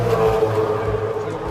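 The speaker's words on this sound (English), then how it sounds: "So one of the cars in at the moment." A race car rolls into the pit lane at Bathurst, its engine burbling loud and close with revs rising and falling over about a second and a half.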